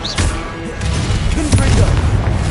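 A fiery spell in Hogwarts Legacy bursts out in a loud, rumbling whoosh of flame, dense and continuous for a couple of seconds with deep low-end thumps.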